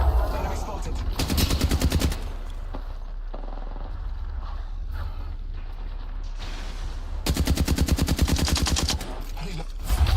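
Bursts of automatic gunfire from an Apex Legends match ring out loud and close, one long volley early on and another near the end, with quieter in-game activity between them.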